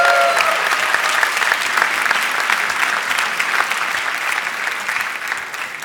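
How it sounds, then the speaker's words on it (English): Steady, dense applause from an audience at a university graduation ceremony, sustained and fairly loud for several seconds with no talk over it. "A round of applause for all the software and service architecture graduates"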